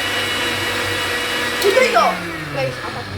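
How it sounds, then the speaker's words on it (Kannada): A mixer grinder runs steadily at close range, its motor whirring as it grinds a batch in a home kitchen, while voices talk over the hum. "ಗ್ರೈಂಡ್ ಆಗುತ್ತೆ ಬಾಸ್."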